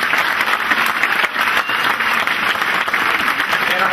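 Dinner audience at a Cape Cod & Islands Democratic Party Jefferson Jackson Dinner breaking into loud, steady applause, a dense wash of clapping that holds for the full four seconds.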